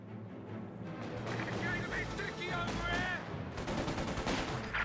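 Dense gunfire in Company of Heroes 2, with rapid machine-gun bursts and overlapping rifle shots from several directions, steady and fairly loud, while voiced unit callouts break through now and then.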